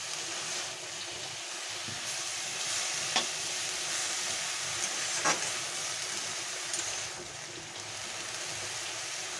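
Pumpkin leaf paste (kumro pata bata) fries in a pan with a continuous soft sizzle and hiss, broken by a few stirring clicks and scrapes.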